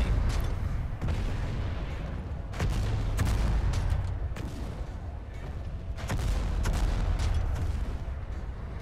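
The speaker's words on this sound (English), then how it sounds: "Who is that asshole up there who keeps hitting me with rockets?" Rocket fire and explosions in Planetside 2, repeated sharp blasts and booms arriving at irregular intervals over constant rumbling battle noise.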